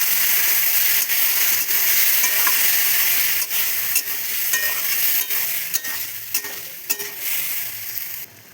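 Boiled ghugni peas sautéed with turmeric, spices and sugar in a pan give a steady loud sizzle and hiss, with repeated scraping stir strokes that ease off near the end.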